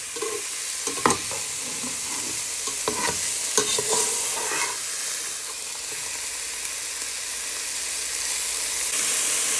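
Thai meatballs frying in a pan, a steady hissing sizzle throughout with a few sharp crackles and scrapes near the start, the sizzle swelling a little louder toward the end.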